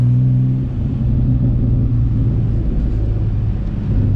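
A 2014 Porsche Cayman S drives close by, its engine giving a deep, loud rumble with a tonal drone that shifts as it accelerates, heard alone without talk.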